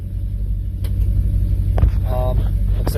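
An S10 pickup swapped with an Oldsmobile 350 Rocket V8 drives a short lap around a building, giving a steady low engine rumble close by with a brief rise in revs midway and a few light knocks.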